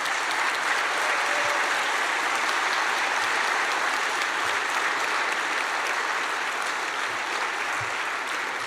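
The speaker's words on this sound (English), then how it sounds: "please give them a big applause" At a global ministerial conference on road safety, the audience applauds steadily for several seconds, a sustained wash of clapping at moderate distance with no voices over it.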